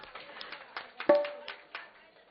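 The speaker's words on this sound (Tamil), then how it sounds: "அந்தோணி அவர்களுக்கு ஒரு கைதட்டு கொடுங்க, பலத்த கைது." Sparse, uneven hand claps from a small audience honoring a mridangam player, a handful of separate claps with one sharp, louder clap near the middle.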